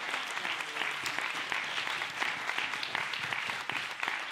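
Audience applause fills a film festival closing and award ceremony as a prize is announced, a dense, steady clapping from a crowd that holds for several seconds without a break.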